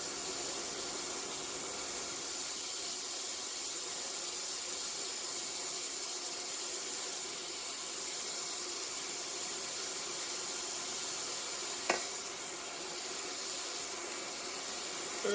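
Mushrooms frying in a pot for pelau, giving a steady, even sizzle and hiss that runs the whole time at moderate level, with one brief clatter near the end.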